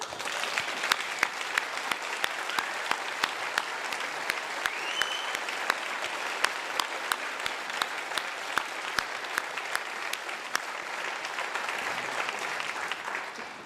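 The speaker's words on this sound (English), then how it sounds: "give them a round of applause." Sustained applause from a large crowd at a nursing and midwifery graduation ceremony, dense steady clapping with sharp individual claps standing out, continuing for the whole stretch.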